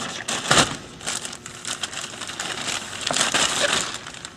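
Close-up crinkling and crunching as an old, flattened rubber door weatherstrip is tugged out of a 1973-1987 Chevy truck door in short, uneven pulls.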